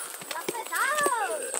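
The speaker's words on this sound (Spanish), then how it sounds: "Estas son bestias mulas" Mules walking uphill on a steep, narrow mountain trail, hooves clip-clopping in a brief close passage while voices talk over them.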